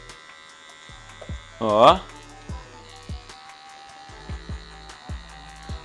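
Electric hair clippers fitted with a number 1 guard run through a client's hair during a mid fade, giving a steady low buzz with short louder bursts as they cut, while someone talks over them.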